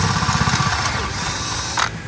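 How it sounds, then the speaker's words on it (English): A drill bores holes in a new billet intake manifold for a blown, alcohol-fuelled LS engine. It gives a steady, close, grinding mechanical whir for about two seconds, with a brief rise in pitch near the end. "now you're drilling holes in it"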